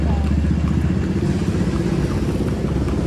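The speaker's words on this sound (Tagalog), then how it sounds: "Wow, what a traffic." Busy Manila street traffic near Intramuros, with motorcycles and other engines droning and clattering loudly and continuously close by, heard during a kalesa ride while people talk over it.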